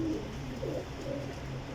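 A Sialkoti Jaunsari female pigeon coos softly in low, rolling phrases, close and quiet, repeating several times over a short span.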